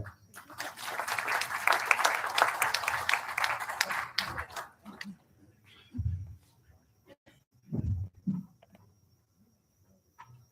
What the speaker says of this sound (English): Clap to you.